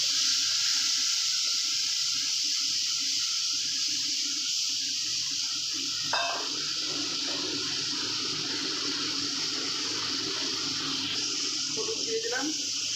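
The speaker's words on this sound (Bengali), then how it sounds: "একটু জল দিয়ে দিলাম।" Water pours into a pan of koi fish curry in a steady, continuous gush that runs the whole time, with a brief clatter partway through and a faint voice in the background.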